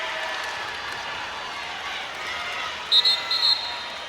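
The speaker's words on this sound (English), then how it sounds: "Listen at this Rockvale crowd on their feet." The Rockvale home crowd cheers on its feet at a high school boys' basketball game against Blackman, a broad, steady roar filling the gym, with sharp whistles near the end and an announcer talking over it.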